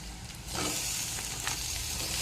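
Tomato and ginger-garlic paste sizzle steadily in a hot pan, a loud, continuous frying hiss with a brief stirring sound near the start, close up and with no talking.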